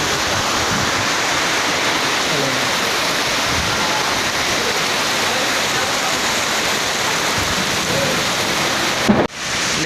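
Heavy rain pours down during a storm at an outdoor fair, a loud, dense, continuous roar of water that stays steady before cutting off abruptly near the end.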